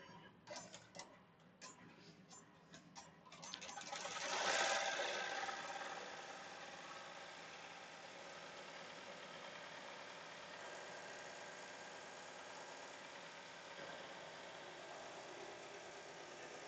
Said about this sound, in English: We're at 1100 stitches per minute, and it should take about 5 minutes to stitch this lettering out.